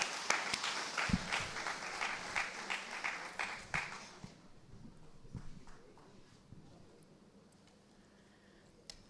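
At an International Women's Day celebration, a gathering of women gives scattered, fairly quiet clapping with distinct individual claps for a few seconds, then it dies away into a faint, near-silent room.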